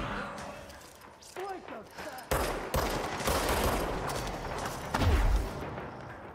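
Sniper rifle gunfire in a shooter video game, sharp reports and thuds cutting through busy in-game noise, with a heavier low boom near the end while a player talks over the action.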